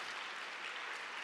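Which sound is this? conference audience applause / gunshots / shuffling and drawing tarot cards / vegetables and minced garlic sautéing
conference audience applause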